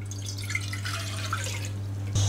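Water trickling and dripping steadily into a pan on low heat for lemon meringue pie filling, close by, over a low steady hum, ending with a louder splash.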